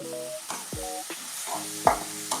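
Chicken momo filling being stirred in a pan, with short scraping strokes and a few clear knocks of the spoon against the pan over a soft frying sizzle, close and moderately loud.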